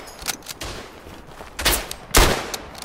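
Machine-gun fire in the WW1 shooter Tannenberg comes as several sharp bursts of gunfire at irregular intervals, two of them loud and close, over ongoing battle noise.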